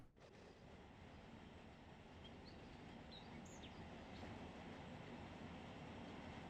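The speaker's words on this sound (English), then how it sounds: "A big old train." A long freight train rolls steadily through a rail yard at about 15 mph in a Run 8 simulation of the ATSF San Bernardino Sub, giving a continuous dense rumble with faint high squeals, with no talk.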